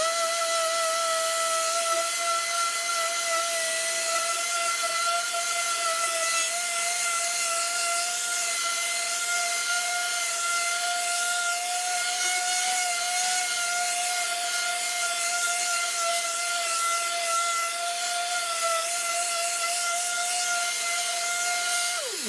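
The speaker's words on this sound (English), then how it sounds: "so I'll just go back through with my sander and get all of that stuff out without gouging it" An electric sander smooths a maple cutting board with a steady, close, even whine and faint rubbing texture that holds for the whole stretch, with no voices, winding down at the very end.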